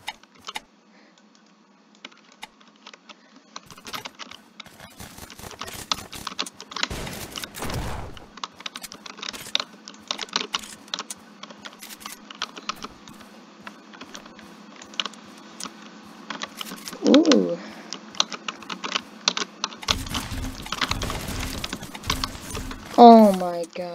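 Keys clatter on an old Dell computer keyboard in irregular bursts of clicks, moderately close, with louder flurries toward the end and a voice talking over them at times.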